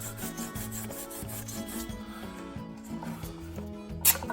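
Hand sanding of carved wood with 220 grit sandpaper on a spiral carving, a steady rubbing scrape running throughout beneath tonal background music.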